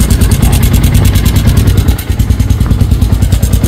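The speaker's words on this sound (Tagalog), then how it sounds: "Start natin yung motor ulit." A Sniper 150 V2 motorcycle engine idles close by with a loud, steady, rhythmic clatter and knocking from the engine. It is heard alone, with no talking.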